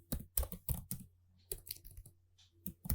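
Keys on a computer keyboard are typed in quick, uneven bursts of close, crisp clicks with short pauses between them, no voices present.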